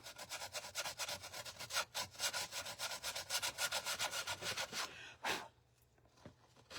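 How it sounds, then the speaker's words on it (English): Sandpaper rubbing back and forth along the edges of a craft project, a steady rapid rhythm of close, scratchy strokes that continues for several seconds before breaking off into a couple of isolated swipes and quiet. "around our edges here where I'm sanding this"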